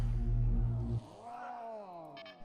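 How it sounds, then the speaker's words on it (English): Cats yowl in the colony-building video game RimWorld as they catch fire during a turret battle: a loud low wail, then a long, rising and falling caterwaul, heard alone without talk. "There are going to be a lot of flaming cats in a minute."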